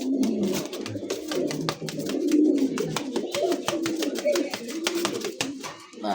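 Danish pigeons cooing continuously in a loft, close and fairly loud, with repeated soft rolling coos layered over one another and a faint voice in the background.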